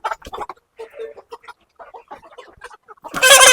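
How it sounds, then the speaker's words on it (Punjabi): A rooster on a poultry farm clucks in short bursts as it is caught, then gives a loud flapping squawk at the end. "ਮੁਰਗਾ ਫੜ ਦਿੰਦੇ ਹਾਂਜੀ"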